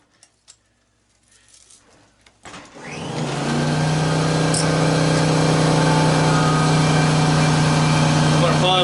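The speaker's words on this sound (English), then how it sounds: "I'm going to pause this until that compressor catches up." Air compressor motor kicking on after a few quiet seconds and running steadily at a loud, constant hum, while scrap electric motors are being cleaned for copper in a workshop.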